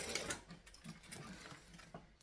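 A sewing machine stitches straight across a handbag during construction, a quiet, rapid mechanical whirring with faint ticks, heard close and alone.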